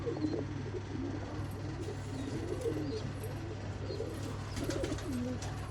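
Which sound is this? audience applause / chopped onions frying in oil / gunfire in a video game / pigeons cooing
pigeons cooing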